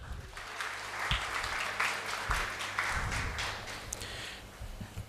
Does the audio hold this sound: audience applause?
yes